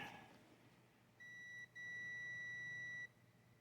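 A multimeter gives a steady continuity tone of two short beeps, the second held for over a second, faint but clean over a quiet room hum during work on a homemade LED bench light.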